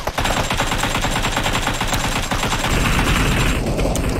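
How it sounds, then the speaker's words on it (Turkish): Rapid automatic gunfire in a multiplayer shooter game, loud and continuous with fast repeating shots, easing slightly near the end. "Tamam, vurdum bunları."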